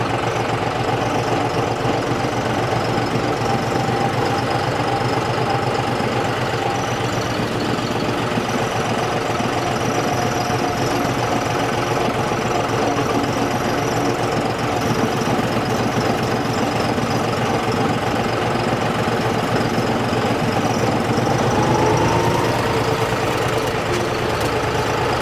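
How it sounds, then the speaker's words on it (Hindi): John Deere tractor engine running above 1000 RPM, a steady loud diesel drone with a knocking rumble, continuous and close with no voices. "अब ट्रैक्टर चल रहा है अपना 1000 आरपीएम के ऊपर।"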